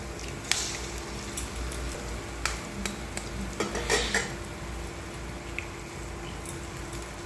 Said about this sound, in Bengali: এবার এখানে আমি ডিমগুলো ফাটিয়ে দেবো